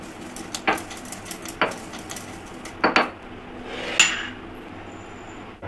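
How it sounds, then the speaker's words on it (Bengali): Cumin seeds being coarsely pounded, a handful of sharp knocks and clinks of a pestle or utensil against a hard vessel, spaced irregularly over a low steady background; no talking. "দেখুন এইবারে আমি এই জিরেগুলোকে আধ বাটা করে গুঁড়ো করে নেব।"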